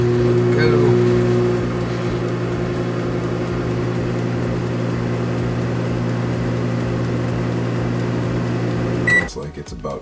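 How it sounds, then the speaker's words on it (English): A microwave oven runs for about nine seconds with a steady, loud mechanical hum while reheating a gooey snack recipe, then stops abruptly, followed by a brief click and beep. "we're going to pop into the microwave for 30 seconds"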